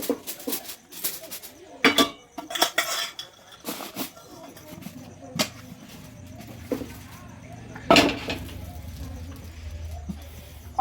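Tawa griddle pan and utensils clattering on a home stove, with sharp metallic knocks and scrapes spread irregularly and close by, and a few louder clanks, while a person talks between them.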